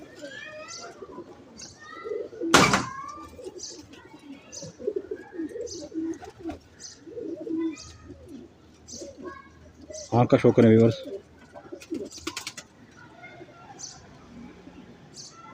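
Pigeons coo softly in the background while someone talks, with a couple of sharp clattering knocks.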